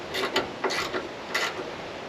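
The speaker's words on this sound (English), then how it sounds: "There's one bolt in this and I start undoing it from the hinge." A bolt being undone from a door hinge on a junkyard Holden Monaro GTS, a few short metallic ratcheting clicks in quick bursts, close and fairly quiet.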